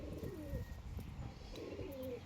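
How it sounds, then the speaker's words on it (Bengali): A white pigeon coos softly in two low, rolling phrases against a steady background hum, fairly faint and close, with no talking. "এই একটা সাদা পায়রা আছে"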